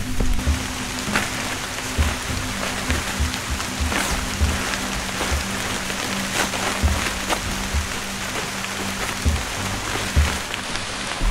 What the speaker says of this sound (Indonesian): Ini mah hujan beneran, bukan cuma hujan bohong-bohongan.